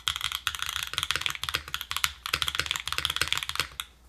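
Rapid, steady typing on a tape-modded Float65 mechanical keyboard, close and clear, with soft muted clacks in quick bursts and brief pauses.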